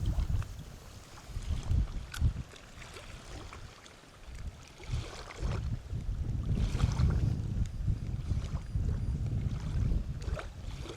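Strong gusts buffet the microphone in heavy low rumbles, rising and falling, with water sloshing faintly beneath, out fishing on open water.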